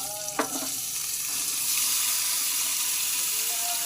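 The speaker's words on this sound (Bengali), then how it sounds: "তেলটা গরম হয়ে গেলে এই জিনিসগুলো ঢেলে দেবো।" Cauliflower, beans, potato, green chili and chopped ash gourd tipped into hot oil, starting with a brief splash and clatter, then a loud steady sizzle and crackle of frying that carries on alone.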